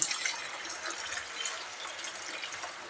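Squeezed black tamarind water is poured into a pan, giving a soft, steady trickling splash at low volume with no talking.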